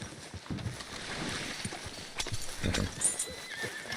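Horse hooves clip-clop on a street in Red Dead Redemption 2, with a whinny and soft gear rustle, steady and fairly close with no voices over it.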